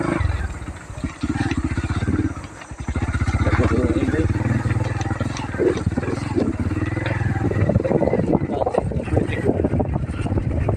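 A motorcycle, the local "motor na kalabaw", rides along a slippery road to Bitik Elementary School, its engine a steady close rumble mixed with heavy wind buffeting the microphone throughout.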